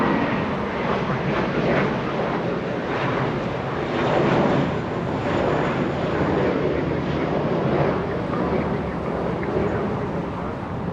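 A jet airliner rolls along the runway after landing at Los Angeles International Airport, a loud broad engine roar that swells and eases over several seconds, with wind buffeting the microphone.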